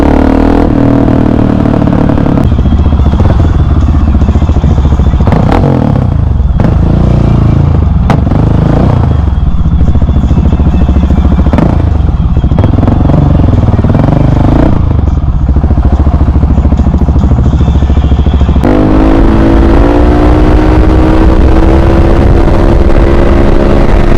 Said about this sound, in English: we are back on the bikes